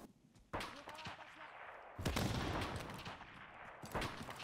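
Sustained gunfire crackles in a Modern Warfare Remastered multiplayer match, with bursts starting and swelling in waves over a dense background of game noise, loud and continuous with no clear pauses.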